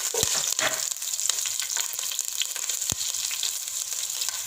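Cardamom and cloves splutter in hot oil for veg pulao, giving a continuous bright sizzle dotted with sharp pops and a few louder cracks, heard close with no talking.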